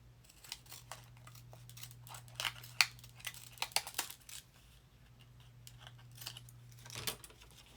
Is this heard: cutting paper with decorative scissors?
yes